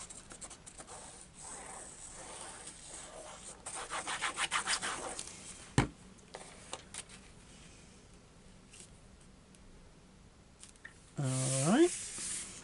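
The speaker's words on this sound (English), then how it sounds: "I'm just rubbing over all the time to disperse that glue" Paper being rubbed over by hand to spread glue on a gatefold mini album, a soft continuous scratchy friction with bursts of brisker strokes, close and fairly quiet, with a brief voice near the end.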